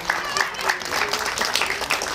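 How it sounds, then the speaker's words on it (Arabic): A studio audience of children applauds for a short burst, dense and steady, filling the room at close range, with no pause in the clapping. "عطونا تصفيق على بوبي اللي جاب لنا الرسائل"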